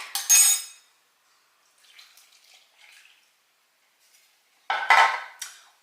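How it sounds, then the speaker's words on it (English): Buttermilk poured into a bowl of flour mixture for cinnamon swirl bread, a brief splashy pour at the start followed by soft clinks and scrapes, then another short wet pour near the end. "To that, we're going to add 1 1/4 cups of buttermilk"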